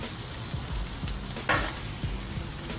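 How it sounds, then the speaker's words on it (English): Onions fry and sizzle in a pan for street tacos, a dense constant crackle close by, broken by a few scraping stirs and light utensil knocks, with no voices. "it looks like the onions are they're done grilling."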